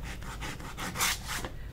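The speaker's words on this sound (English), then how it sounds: "So I can sand it away." A sanding pad is rubbed back and forth over a painted wood sign, making a run of loud, rhythmic scratchy strokes with a brief harsher pass in the middle.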